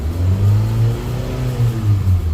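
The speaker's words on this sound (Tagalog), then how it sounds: "papagana natin yung accelerator natin" A car engine revs under the accelerator, a loud, close, steady droning roar that swells and dips slightly over a couple of seconds, with no talking.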